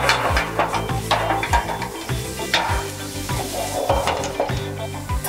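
Lomo saltado stir-fried in a pan after a splash of wine for flambé, a loud steady sizzle with rhythmic scraping and tossing strokes of a utensil against the pan, close up, no talking.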